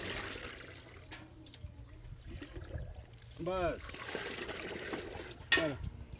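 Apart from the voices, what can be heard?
water being poured for shikanjvi lemonade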